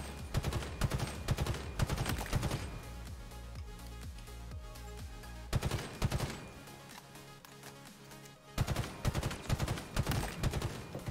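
Battle rifle gunfire in a shooter video game comes in rapid bursts of sharp shots with short pauses between volleys, loud and close, with no speech.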